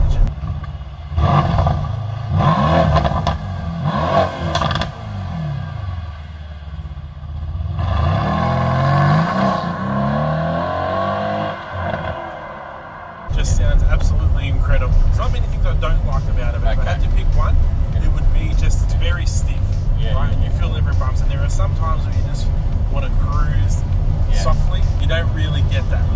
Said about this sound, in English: I love just that sound of that engine.